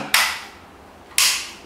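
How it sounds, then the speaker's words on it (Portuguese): An HK USP spring airsoft pistol in ABS plastic fires 6mm BBs, giving two sharp, loud snaps about a second apart with quiet between and no talking. "Está em safety, não efetua o disparo, livre, está efetuando o disparo."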